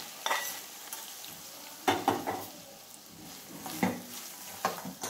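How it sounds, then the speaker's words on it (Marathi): Hot tempering poured over millet dadpe poha gives a soft sizzle, punctuated by a few sharp clinks and scrapes of a spoon against the vessel, close and moderately loud. "ही आपण आपल्या दडपे पोह्यावरती अशी छान खमंग फोडणी देणार आहे"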